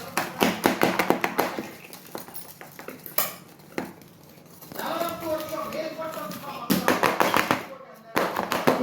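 Rapid metallic tapping on a tray to spread coconut sweet mixture in quick bursts, with pauses where a person talks between the rounds of taps.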